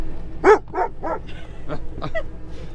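A dog barks several times in a quick, uneven series of close yips and woofs, with a faint whine between them, heard near a vehicle recovery scene.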